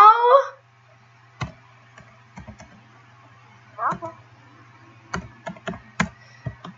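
Computer keyboard typed on in scattered bursts of sharp, close clicks, with a brief voice at the start and another partway through.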